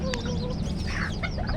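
Bantam (ayam KT) chickens cluck in short, scattered calls close by, with a few sharper notes over a low background hum.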